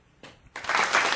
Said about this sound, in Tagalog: Palakpak mo nga ang QCPD.